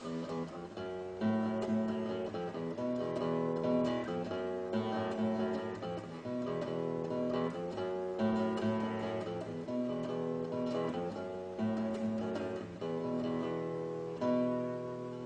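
A guitar plays a repeating melodic riff steadily throughout, moderately quiet, each picked note clear with no one talking.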